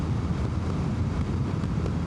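Steady, loud wind buffeting the microphone while riding a 2025 Honda NC750X motorcycle on the road, a constant low roar with no break.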